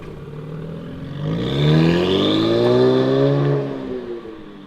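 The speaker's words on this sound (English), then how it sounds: "Sounds good. That turbo spool." A 2023 Nissan Z fitted with MAPerformance downpipes revs up nearby, its turbocharged exhaust note rising in pitch with audible turbo spool, holding for a couple of seconds before easing off.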